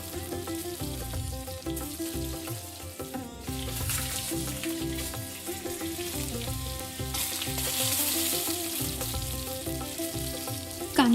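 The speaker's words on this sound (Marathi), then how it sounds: "सर्वप्रथम कांद्याच्या बारीक बारीक रिंग बनवून त्या गरम झालेल्या तेलामध्ये ठेवायचे" Thin onion rings sizzling in hot oil in a pan, a steady crackling fry with bubbling and occasional stirring noises, close and moderately loud throughout, with no speech.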